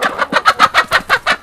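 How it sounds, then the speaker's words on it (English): A black Australorp hen clucks in a steady run of about eight close, loud, evenly paced clucks on a small mixed farm, with no talk over it. "This hen, this is what you call a black Australorp."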